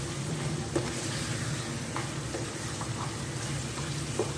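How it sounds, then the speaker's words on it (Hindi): Pakistani beef stew with garam masala stirred in a hot pot. A close, steady sizzle carries on throughout, with a few light clinks and scrapes as the spoon moves. "इसको थोड़ा सा चलाएँगे।"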